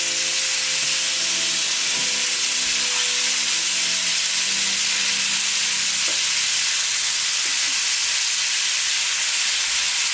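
Meat sears in a hot pan for a crock pot barbacoa, with a loud, constant sizzle and frying hiss throughout and a faint low hum underneath. No one speaks.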